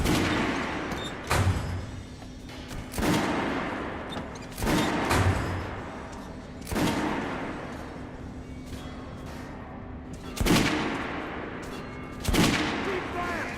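Guns fired at a shooting range in the Metro: Last Light video game, about six loud, sharp reports spaced a second or two apart, each with a decaying tail over a steady low hum.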